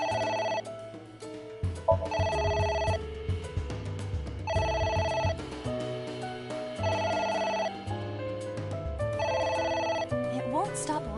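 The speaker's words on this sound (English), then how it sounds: "It won't stop ringing." A telephone rings repeatedly inside the video game AI: The Somnium Files, its bursts recurring in an even rhythm over a looping background music track, loud and steady throughout.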